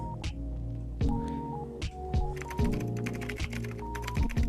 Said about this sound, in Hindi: we have a very nice typing effect in our text